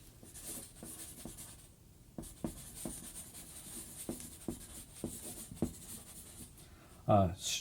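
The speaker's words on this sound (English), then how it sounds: "I'm gonna sign my name over here" A pen scratches across paper as someone writes a signature. Faint, close strokes with soft rhythmic ticks run steadily, and a person speaks briefly at the end.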